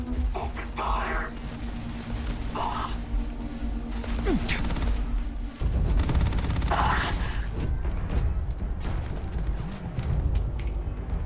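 Video game gunfire, sustained booming volleys over a low rumbling bed of explosions and mechanical noise, loud and continuous throughout, with brief game voices mixed in.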